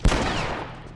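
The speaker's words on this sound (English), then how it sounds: "So many shotguns, jeez." A single close, loud shotgun blast from the video game The Last of Us Part II hits sharply at the start, then a rumbling tail fades over the following second.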